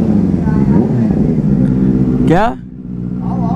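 A loud Benelli motorcycle engine rumbles and revs close up, climbing and then dropping off sharply, while someone talks over it.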